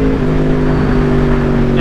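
Motorcycle engine braking in B mode, a loud close steady drone with clear tonal harmonics that shift slightly in pitch, dominating the short stretch with no speech over it.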